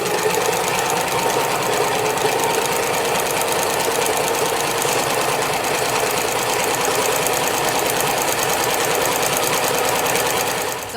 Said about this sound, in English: let's take it over to our sewing machine, and we're going to stitch along both sides of this